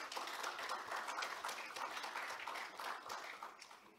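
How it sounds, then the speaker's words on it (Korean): An audience applauds steadily after a symposium lecture, a dense wash of many hands clapping that tapers slightly at the end. "다시 한번 큰 박수 보내주시기 바랍니다"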